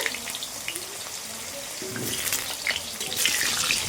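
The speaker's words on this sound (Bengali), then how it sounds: "তেলটা গরম হয়ে গেছে আলুটাও দিয়ে দিয়েছি" Potato pieces frying in hot oil in a wok, giving a steady close hiss and crackle that grows louder and busier over the last second or two.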